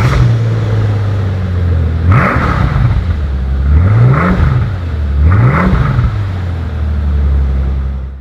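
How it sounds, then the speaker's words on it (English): A Mercedes SL65 AMG with a V12 engine pulls away hard, its loud engine note climbing through three rising surges with brief dips between gear changes, heard from inside the car. "You can feel that the V12 is something a bit special by the sound it's making."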